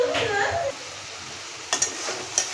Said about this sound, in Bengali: মশলাটা ভালোভাবে কষানো হয়ে গেছে, এবার ভেজে রাখা আলুটা দিয়ে দেবো